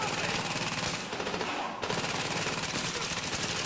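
Automatic weapons fire in Tom Clancy's The Division during a fight at Grand Central Station. Loud, sustained rapid bursts run almost without a break, with only a brief dip in intensity about a third of the way in.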